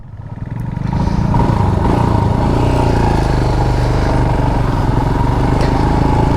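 A KTM Duke 490 motorcycle being ridden, its engine a loud, steady close rumble that builds over the first second and then holds a constant drone, with no talk.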